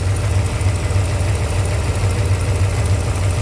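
A car engine idles steadily just after start-up during power steering repair work, a low, even rumble with a faint knocking pulse that holds constant throughout, close by, with no talking.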